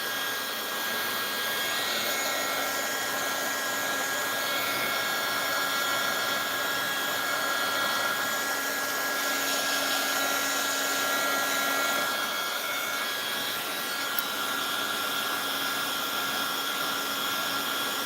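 A hair dryer blows steadily to dry fresh matte paint on a craft piece, a loud continuous whooshing drone with a faint steady whine that runs unbroken throughout, with no talk over it.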